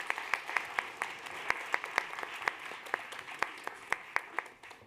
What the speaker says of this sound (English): A big round of applause for our amazing assistants